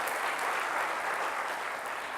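A worship congregation breaks into loud, steady applause, a thick even roar of many hands clapping together with no speech over it.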